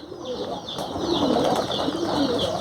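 Racing pigeons flutter and call close by, soft wingbeats mixed with light chirps in a continuous, busy murmur.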